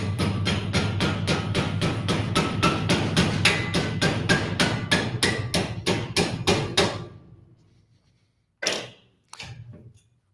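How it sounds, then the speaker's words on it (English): A tungsten carbide burr is struck forcefully again and again: about twenty rapid, loud, evenly spaced metallic blows for seven seconds, then a pause and two more separate hits near the end. "So I'm going to try to destroy the burr and we'll see what happens."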